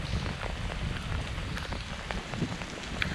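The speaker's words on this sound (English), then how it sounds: "it'd have been better if it wasn't raining" Steady rain falls outdoors on the Mill Creek Blue Loop hiking trail, a dense hiss of drops with scattered louder taps close by, continuous and moderately loud.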